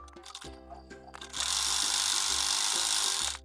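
A sewing machine stitches along a folded fabric strip for a small summer dress, starting with a few slow clicks before running in one steady, close whirring burst that stops abruptly.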